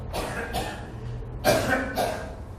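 A person recovering from a cold coughs in short bursts, several harsh coughs spaced through the moment, close and fairly loud against a quiet room.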